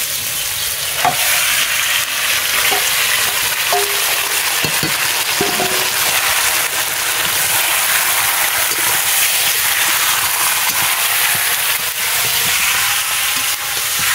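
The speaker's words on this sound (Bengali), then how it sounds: "এবার আগে থেকে ম্যারিনেট করা মাংসটা এবার কড়াইতে দিয়ে দিচ্ছি" Marinated country chicken sizzles loudly in a hot wok, a dense steady frying hiss filling the whole stretch, with occasional clinks and scrapes of stirring.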